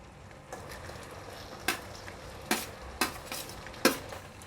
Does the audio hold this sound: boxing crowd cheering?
no